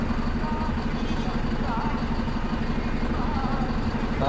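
Morning road traffic in Goa: a steady wash of engine noise and passing vehicles, with motorcycle-like idling and clatter close by, continuous and fairly loud with no clear breaks.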